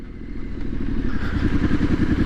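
A Triumph SS 900 motorcycle is ridden in third gear at about 20 mph, its engine chugging with a low, lumpy, pulsing thrum alongside steady wind and road noise, close and loud throughout.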